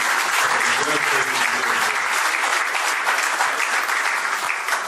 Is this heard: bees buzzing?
no